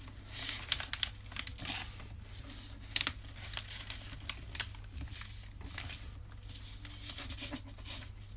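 Paper folded by hand into thin strips for a split dragon puppet base, heard as close, irregular crinkling and crisp rustles with sharp creases, steady over a low constant hum, no talk.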